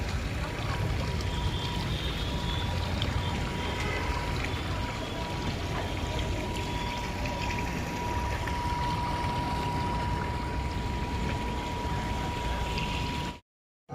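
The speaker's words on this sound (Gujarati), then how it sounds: "Fountain pump." Fountain pumps at a large garba celebration in Saurashtra splash water in a steady, continuous rush that stays level for the whole stretch, with a faint, thin tone running beneath before the sound cuts off abruptly at the end.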